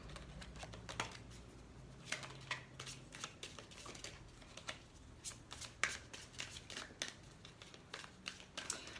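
A deck of tarot cards is cut and shuffled, making repeated riffling flutters and soft card slaps in quick bursts, close and alone without talk.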